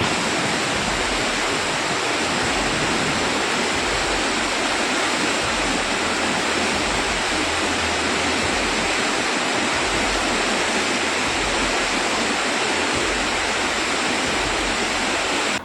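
A swollen river floods after heavy rain near Rudraprayag and Agastyamuni in Uttarakhand, making a loud, steady, unbroken rushing roar with no voices.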